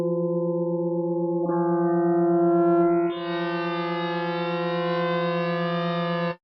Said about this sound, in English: Next up is the flanger.